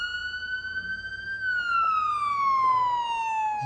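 An ambulance siren wails in a single long tone that rises and then slowly falls in pitch, loud and fairly close, heard alone without voices over a faint background hum.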